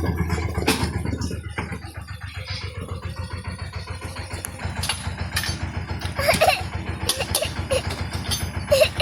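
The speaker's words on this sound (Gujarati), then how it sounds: "મિની ટ્રેક્ટર આવે ને છે" A mini tractor's engine chugs nearby in a steady, rapid low putter that holds throughout, while people talk and laugh over it.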